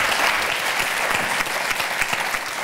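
Studio audience applause on a French TV show, a brisk, dense burst of many hands clapping close and loud, individual sharp claps poking through the steady roar.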